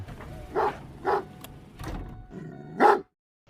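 A dog barks four times in quick succession nearby, the last bark loudest, followed by sudden quiet.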